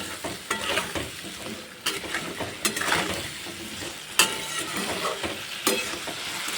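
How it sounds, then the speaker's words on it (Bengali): Cubes of elephant foot yam fry in a pan with salt and red chili paste, stirred with a utensil. Steady sizzling runs under repeated scraping strokes, with no talking. "এবার সব কিছু দিয়ে নাড়াচাড়া করে ভেজে নেব কিছুক্ষণ"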